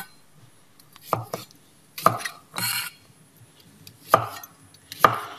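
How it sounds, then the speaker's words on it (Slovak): A knife cuts carrots into thin slices on a board: sparse, quiet, separate chopping knocks with pauses between them, and a faint voice briefly underneath. "Ja to nakrájam na takéto tenšie plátky."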